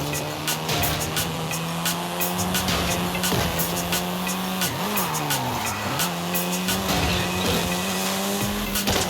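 Volkswagen Golf R, seventh generation, driving in Forza Horizon 5: a loud, steady engine drone that rises and falls as it shifts, with tire squeal and skidding, alone with no talk.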